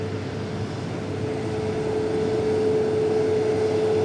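Airliner in from Houston Hobby arriving at Dallas Love Field, a steady, fairly loud engine drone with a sustained tonal whine, slowly growing louder.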